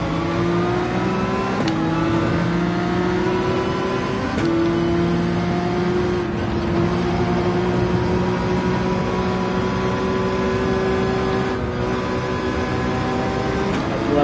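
Race car engine in Gran Turismo 7, a steady loud drone with repeated dips where the revs drop and climb again as the car brakes and shifts, running on without talk.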